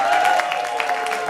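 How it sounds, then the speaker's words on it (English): Audience at an improv comedy tournament at Arcade House applauds Dave Ronaldo, a brief patch of clapping with voices and cheering mixed in. "Also, a round of applause for Dave Ronaldo."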